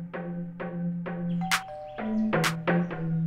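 A doorbell-like chime rings out in a music video, with bright bell tones sounding twice over a rhythmic melodic backing of repeated notes.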